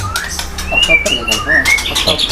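A young white-rumped shama, about five months old and still moulting into adult plumage, sings close by in a run of bright whistled notes and rising slurs, with chirpy phrases over low background sound.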